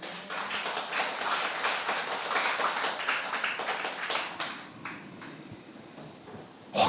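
A church congregation claps together during a Korean Sunday worship service, a dense, steady wash of many hands close and loud for most of the stretch, thinning toward the end before a brief sharp burst.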